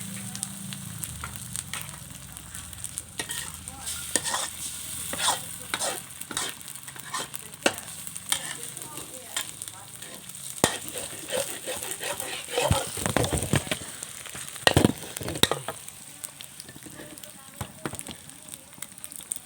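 Two eggs hitting a hot wok for Thai stir-fried soy sauce noodles, with sizzling frying and scraping, rattling stirring strokes that grow busier and louder toward the end.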